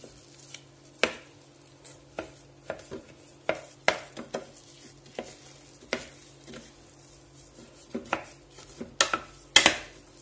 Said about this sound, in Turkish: Kaşıkla içini karıştırmak istiyorum.